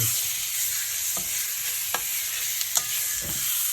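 Diced lamb for a Moroccan tagine sizzles in a pan on medium heat while being stirred, a close, steady frying hiss broken by a few scraping knocks of the utensil, with no talking.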